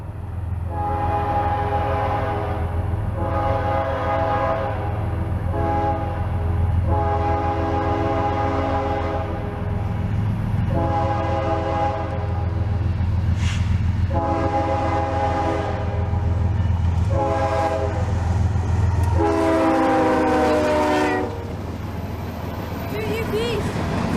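A CSX freight train rolls past in Folkston, Florida with a steady loud rumble under a series of long repeated horn blasts, the last one closer and harsher.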